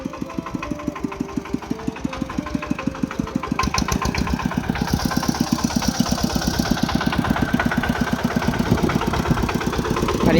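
A farm tractor engine in rural southern Laos chugs steadily at idle, a rhythmic knocking putter that picks up slightly partway through, close and unaccompanied by voices.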